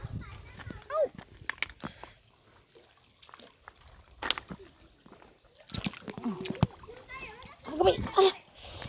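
A child splashes while swimming in a river, with intermittent nearby water slaps and sloshes mixed under near-constant talk from adults and children.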